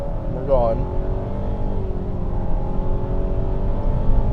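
A 2018 Nissan Rogue SL Platinum AWD accelerates hard from a standstill in sport mode, heard from inside the cabin as a steady, fairly loud engine drone that holds at one pitch after a brief rise.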